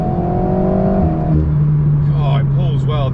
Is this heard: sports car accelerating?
yes